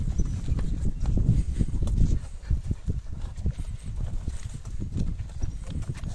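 A horse trained to pull a cart, its hooves clip-clopping steadily on hard ground at close range, with a faint voice in the background.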